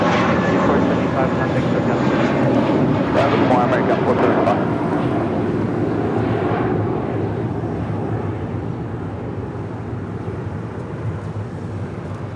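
A jet airliner roars loud and broadband at Los Angeles International Airport, a sustained engine rumble that slowly fades over several seconds while someone talks over it.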